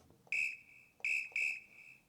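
Whistle sample for a dance music track, three clear, piercing steady-pitched blasts, the first alone and the last two in quick succession, crisp and close with near silence between.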